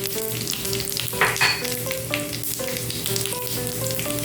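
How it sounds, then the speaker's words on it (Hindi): Cloves, cardamom and cumin seeds fry in hot oil for a karela keema dish, a continuous close sizzle and crackle with a steady tonal hum beneath and a brief stirring scrape, no talk. "ये अब हम इसके अंदर डाल के इसको फ्राई कर लेते हैं"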